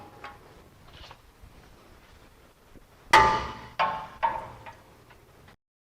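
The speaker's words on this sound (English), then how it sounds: "I'm going to use a breaker bar and a 17 to loosen these up." A breaker bar with a 17mm socket loosening tight front brake caliper bolts on a 2006 Toyota Tacoma: after faint ticking, three sharp metallic cracks and clanks ring out in quick succession, close and loud, then silence.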